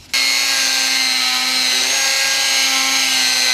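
A Dremel rotary tool spins at a steady high-pitched whine while polishing a painted wheel, starting abruptly and holding a constant loud tone close up, with no talk.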